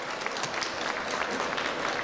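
Audience applause at a comics convention in Milan, a steady dense clatter of many hands clapping throughout, fairly close and even in loudness with no voices standing out.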